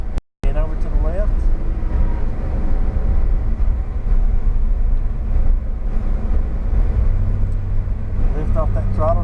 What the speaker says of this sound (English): Now accelerate over this hill toward the left.